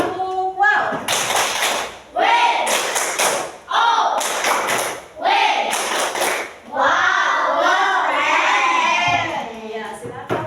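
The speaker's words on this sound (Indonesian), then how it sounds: "Nah, kita kasih tepuk wow dulu yuk." A group of children in a classroom performs a rhythmic clapping chant, loud bursts of hand claps in a patterned beat alternating with shouted, sung voices in unison.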